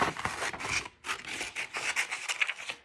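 Scissors snip through paper in a quick series of crisp, rasping cuts, close and fairly loud, with a short pause partway through.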